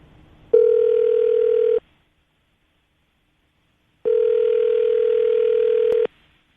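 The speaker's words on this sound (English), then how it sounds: "We're going to give her a call right now" A telephone tone sounds while a radio show places a call, two steady bursts of about one to two seconds separated by silence, clear and alone with no talking.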